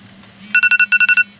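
A kitchen timer beeps by a grill where steaks are cooking, two quick bursts of four shrill electronic chirps each over a low background hum.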